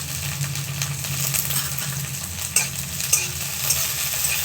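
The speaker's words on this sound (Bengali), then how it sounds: "এগুলো একটু ভাজা হয়ে গেছে, আমি এবার ক্যাপসিকামটাকে দিয়ে দিলাম এর মধ্যে" Capsicum stir-fried in a pan with coriander leaves and sesame gives a steady, close sizzle, with the scrape and clink of stirring coming through at intervals.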